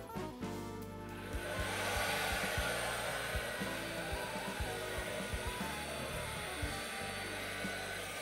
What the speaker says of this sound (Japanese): 次は、定格出力 750W のドライヤーですけど、ローだったら動くかもしれないのでやってみたいと思います。